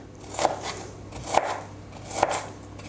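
Knife chopping dough into small cubes for Antakya kaytaz börek, three distinct sharp cuts about a second apart against a quiet background, with no talk.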